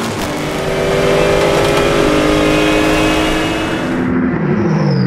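A Renault RS01 race car passing a Mercedes at Magny-Cours: a loud, sustained engine roar with a steady pitch that swells, then shifts downward as the car goes past, with distant engine noise trailing after.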